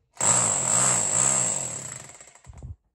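A rotary hammer drill in hammer-only mode, a single loud burst of about two seconds with rapid pounding over a high motor whine, close up, then winding down to a stop.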